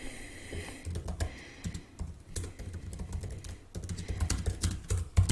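Fingers type text on a computer keyboard in quick, uneven bursts of close, crisp key clicks with short pauses between runs. No one speaks.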